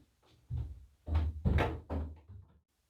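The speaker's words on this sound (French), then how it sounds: "et ferme la porte." A door is pushed shut in a few dull, close thumps and knocks, fairly loud against an otherwise quiet room, with no talk over it.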